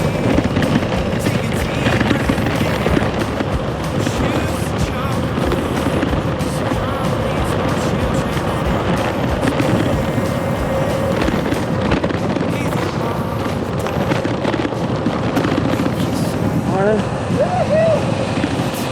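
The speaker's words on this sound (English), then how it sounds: "This bike scares me at high speed with all this weight on it" A heavily loaded bicycle rolls fast down a paved road, steady tire and wind roar with rattles and a brief squeak near the end, a rider talking over it.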